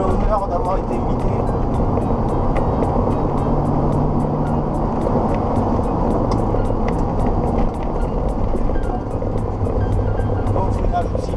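A Ferrari 348 TS slows under braking, its engine and road noise a steady, close rumble with faint regular ticking, while someone talks over it.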